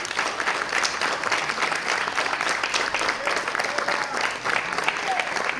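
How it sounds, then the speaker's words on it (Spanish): An audience at a national victims' forum in Caracas applauds, a dense, steady wash of many clapping hands sustained throughout at moderate loudness. "Entonces de verdad que un aplauso inmenso."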